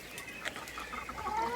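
Backyard chickens give a quick run of clucks, close and clear, over a brief moment with no talking.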